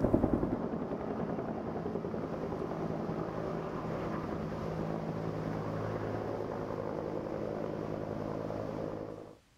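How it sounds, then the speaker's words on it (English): A helicopter's rotor thrums loudly and steadily, a close, continuous chopping drone that cuts off abruptly at the end. "it would be better to do it with a helicopter."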